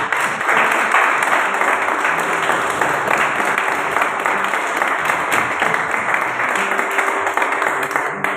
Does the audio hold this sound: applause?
yes